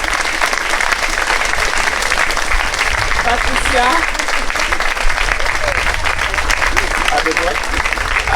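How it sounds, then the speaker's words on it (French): Parish audience at an end-of-year pastoral celebration clapping loudly and steadily, a dense crowd of hands close by, with voices and chatter mixed in and a name called out over the applause. "Bon, applaudissez-le"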